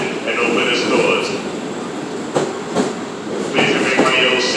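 An M7 Long Island Rail Road commuter train bound for Seaford runs through Jamaica station without stopping, a loud steady roar with rhythmic wheel clatter over rail joints and a bright screech on top, heard close up.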